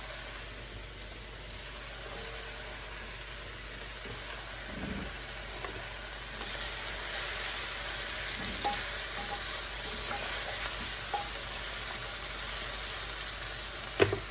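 Mushrooms sizzle and fry softly in a soup pot, a steady low crackling hiss with a few faint clinks and stirring knocks, ending with a sharp tap; no voices.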